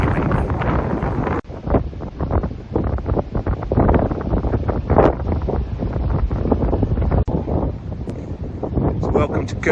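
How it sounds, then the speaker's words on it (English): Strong wind buffets the microphone in loud, roaring gusts at Curborough sprint course on a cold, wet day, continuing throughout, with a voice speaking underneath. "it's cold, it's wet, and it's bloody windy"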